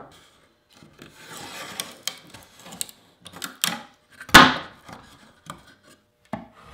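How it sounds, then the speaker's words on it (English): Chisel scraping and paring a wooden Langstroth beehive frame, with soft rasping strokes, scattered taps, and one sharp, loud crack partway through, all close and without any talk. "Clean it up with the chisel again."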